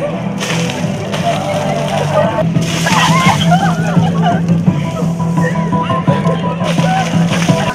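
Cold water dumped over students during an ice bucket challenge: splashing and sloshing bursts break out over a noisy outdoor crowd, with voices shouting and talking throughout.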